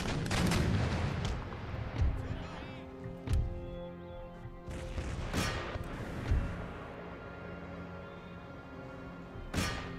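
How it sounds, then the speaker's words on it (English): Howitzers fire during an Empire Total War battle, sending out several heavy booming shots at irregular intervals over a steady sustained background bed of game ambience. "My howitzers can keep attacking the cannons."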